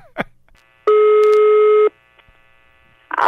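Telephone busy signal on a redialed call: a steady, loud two-tone beep lasting about a second, with faint line hum before and after and a brief click at the start.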